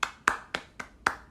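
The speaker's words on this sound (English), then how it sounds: "Just round of applause for Bangor." A few people clap for Bangor University: five sharp, separate claps spaced about a quarter second apart, close and fairly quiet, with no voices.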